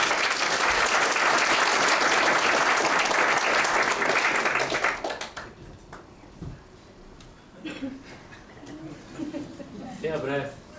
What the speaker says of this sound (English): give Gary a big round of applause